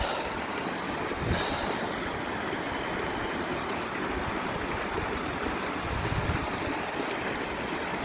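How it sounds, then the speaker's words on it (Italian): Mountain stream water rushes down steadily as a loud, continuous roar near an alpine refuge, with some wind buffeting on the microphone and no voices. "guardate quanta acqua sta scendendo."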